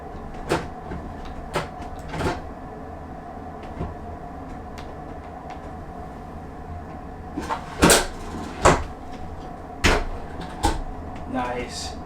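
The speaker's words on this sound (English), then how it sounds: "All right, so let's see if we can get this drawer back in here the right way." Wooden drawer being slid and fitted back into an RV cabinet, a series of sharp knocks and scraping thumps spread over several seconds amid low background hum, with a person talking.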